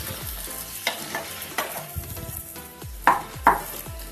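Okra being stirred into tomatoes in a hot frying pan for a curd-based okra masala curry: steady sizzle with repeated scraping stirs and a couple of sharp spoon clinks against the pan, close and alone.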